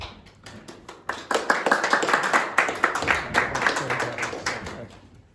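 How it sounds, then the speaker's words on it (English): Students clapping together in a classroom during an English lesson, sharp individual claps building into a brisk round of applause that thins and fades toward the end, fairly close and without talk. "Don't be clapping yourself"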